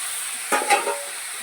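Boiled pumpkin leaves and chopped green chillies stir-fried in a pan: a few short scraping stirs with a soft sizzle underneath, close and fairly quiet.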